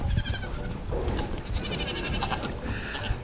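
Several goats bleat on a goat farm, overlapping wavering calls rising over a busy, noisy outdoor background at close range, with no talk.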